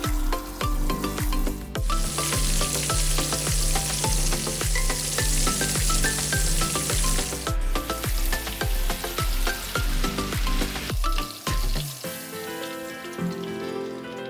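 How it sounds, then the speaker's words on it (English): Oil sizzles steadily as beer-battered prawns deep fry, with music playing throughout and a brief drop near the end. "finish frying the rest of the prawns"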